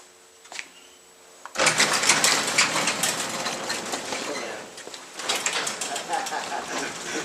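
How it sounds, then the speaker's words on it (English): A residential garage door closes with a loud, continuous rattling and grinding run that starts abruptly after a quiet moment and continues steadily to the end, dipping briefly near the close. "Let me go ahead and close the garage door."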